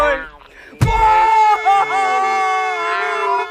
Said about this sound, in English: He screamed hysterically and honked his horn.